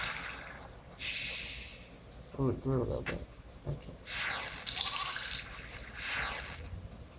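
Water is poured onto a tree in the video game There Is No Game, giving soft trickling and splashing bursts between short stretches of quiet, while someone talks over parts of it.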